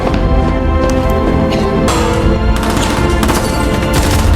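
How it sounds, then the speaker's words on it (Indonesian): Rapid grenade-launcher fire and explosions during a gunfight inside a room in the action film The Old Guard, loud and dense, with continuous blasts and bursts layered under a booming score, no talking. "Saat berada di dalam sebuah ruangan, mereka ditembaki oleh pelontar granat."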